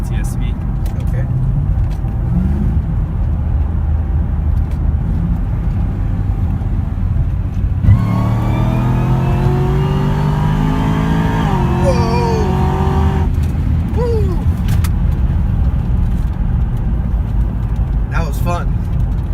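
A 2011 Cadillac CTS-V with its exhaust closed, tuned to about 750 horsepower at the wheels, heard from inside on a ride-along, with a deep steady engine drone that rises in pitch through a hard acceleration with gear changes, then settles back.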